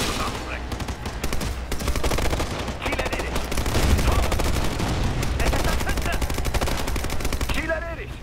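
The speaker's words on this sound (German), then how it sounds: "Mal wieder normal schießen, ey." Automatic gunfire in Ghost Recon Future Soldier, a loud sustained clatter of rapid shots that runs almost without a break, with game voices faintly underneath.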